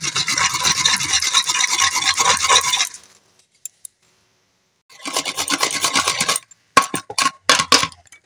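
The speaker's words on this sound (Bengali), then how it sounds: "তা আমি এগুলোকে এক এক করে গ্রেটারের সাহায্যে গ্রেট করে নেব।" Beetroot and carrots rasped one at a time on a hand grater, a close, dry scraping in quick repeated strokes that stops, then resumes in a long run and a few short bursts.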